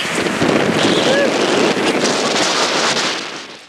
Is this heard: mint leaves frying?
no